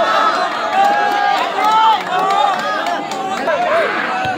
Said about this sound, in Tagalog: Yun, hiyawan yung mga tao dito.